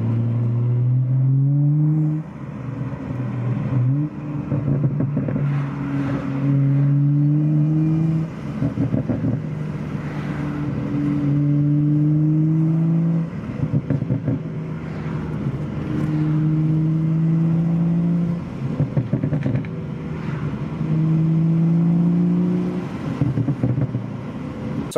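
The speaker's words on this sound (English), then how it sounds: "I'm going to show you how 1 second burble sounds like in the soft setting right now" BMW exhaust with an MHD tune on its soft burble setting: repeated engine revs, each followed by a short crackling burble on the overrun, cycling about every four seconds, close and loud with no talk.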